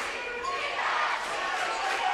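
Loud, roaring crowd noise fills a gym during a boys basketball game between Fort Loramie and Botkins, a sustained, dense wall of cheering and shouting with no breaks.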